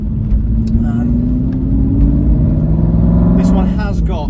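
A 2007 Aston Martin V8 Vantage 4.3 with its exhaust valve held open, droning loudly while driving, the engine note rising gradually under someone talking over it.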